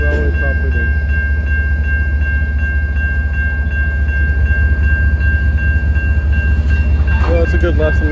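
A CN intermodal freight train on the Wainwright Subdivision sits braked after an emergency stop. A loud, steady low rumble carries a sustained high tone, with a few clanks and squeals near the end.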